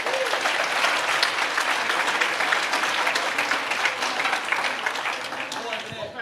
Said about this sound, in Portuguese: Você pode dar uma salva de palmas para a Margarete?